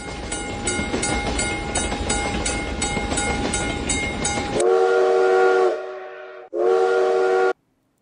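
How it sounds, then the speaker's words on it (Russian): Cartoon steam train with freight flatcars: a rhythmic chugging and rail clatter gives way to a loud, sustained steam whistle blast, then a second shorter whistle after a brief pause. "Смотрите, какой интересный поезд!"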